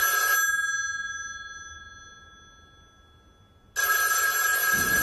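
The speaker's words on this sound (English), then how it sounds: "And it's ringing." A telephone rings during an outgoing call, the ringback tone pulsing with a long quiet gap before resuming clearly near the end, with no talking.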